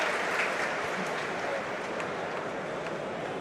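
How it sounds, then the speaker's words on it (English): Home crowd at a Queens Park Rangers versus Charlton football match applauds a substitute, a distant, steady roar of clapping spread across the stadium and blending into a constant wash of crowd noise. "And now Hayden gets a decent round of applause."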